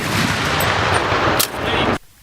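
Artillery fire during a military bombardment of forested rebel bases in eastern DRC: loud, dense pounding blasts and rumbling for about two seconds, a sharp crack near the end, then an abrupt cut to quiet.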